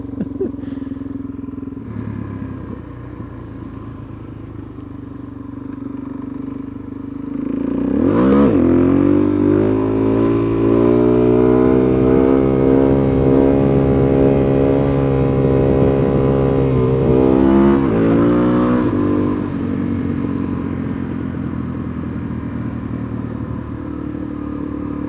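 A Suzuki DRZ400SM motorcycle revs hard and loud, its engine climbing in pitch through a long sustained pull while doing wheelies, then dropping back to a lower drone near the end.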